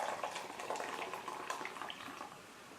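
Liquid is poured into a green cup as a steady, close, splashing trickle that lasts about three seconds and fades slightly toward the end, with no talking.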